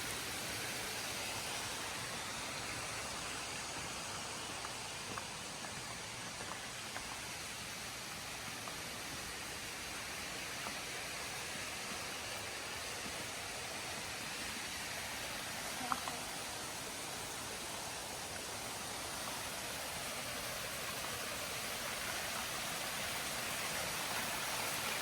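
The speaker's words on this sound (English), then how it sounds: "There's a waterfall over here on the right." Steady, broad rushing roar of a waterfall in the Balinese jungle near Tegalalang, Ubud, continuous and fairly loud throughout, with no talk over it.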